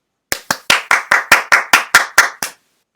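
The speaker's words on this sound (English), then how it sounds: "A big applause to all the organizers who have made this virtual Baltic Way possible" Eleven crisp, evenly spaced hand claps sound close to the microphone, each ringing with a short room echo. They mark applause for the organizers at a virtual closing ceremony, heard alone without talk.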